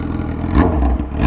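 A 2007 Yamaha R6 with a Power Commander 5 and a full exhaust gives a short, loud, close-up rev, its engine note rising briefly over a rumbling idle.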